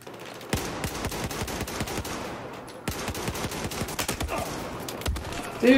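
Sustained LMG machine gun fire in Battlefield 4 on Operation Metro, rapid loud bursts of shots rattling almost continuously with brief gaps between strings.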